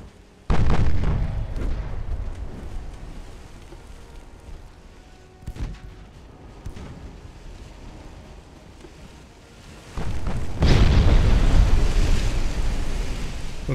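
Warship gunfire in the naval video game Ultimate Admiral Dreadnoughts: a loud booming salvo opens, followed by scattered muffled shell impacts over churning sea ambience, then another heavy sustained barrage of gunfire and explosions near the end.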